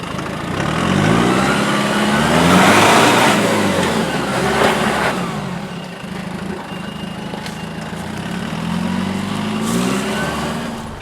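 A Nissan Patrol 4.2 ute engine revs and labours while climbing an off-road track, its note rising and falling steadily and close by, with no talk.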